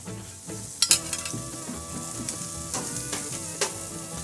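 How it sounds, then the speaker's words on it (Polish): Chicken skewers sizzle on a grill rack with a soft steady hiss, broken by several metallic clinks and scrapes of the rack and utensils, up close and fairly quiet. "W tym momencie na grill ląduje ten stelaż, a na nim szaszłyczki"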